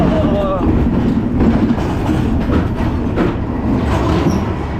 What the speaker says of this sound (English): And that concludes my ride on Barnyard Whirl.